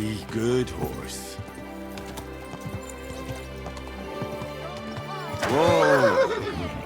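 A horse in the video game Kingdom Come: Deliverance II whinnies loudly twice, a shrill neigh at the start and a longer one near the end, with hooves and low background ambience between.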